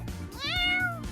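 A cat gives a single drawn-out meow that rises and falls, close and clear against a quiet background.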